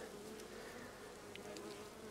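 A soft, steady hum of honeybees buzzing, with a few individual bees droning briefly closer over the background hive noise.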